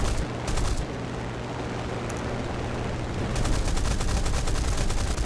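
Spitfire LF Mk IX guns firing in War Thunder, loud rapid bursts of cannon and machine-gun fire over a steady engine drone, one short burst early and a longer rattling stream near the end, no talk.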